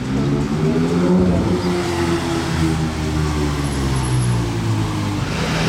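Porsche GT3 RS with a 4-litre engine revving loudly and steadily nearby, its deep harmonic roar rising and falling through several throttle blips in a busy street setting in Monaco.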